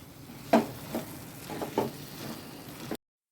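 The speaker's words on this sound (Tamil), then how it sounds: "இப்போ இதையும் சேர்த்து நல்லா கலந்து விட்டுறலாங்க" Tamarind water being stirred into a prawn gravy in a pan: a few soft, wet scraping strokes with a faint sizzle underneath, close by and quiet.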